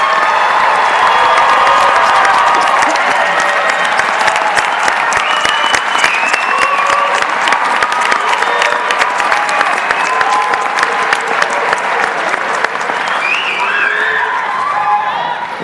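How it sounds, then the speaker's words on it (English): A graduation ceremony audience for community college graduates breaks into dense, sustained applause. The loud clapping runs continuously throughout with a hint of crowd noise and no clear voices over it. "will the audience join me in a resounding and desired applause for each of the graduates"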